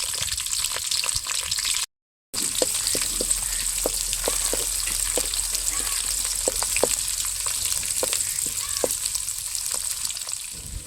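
Tomato, onion and green chilli frying in oil, a continuous dense sizzle with scattered pops and spatters, briefly cut out near the start.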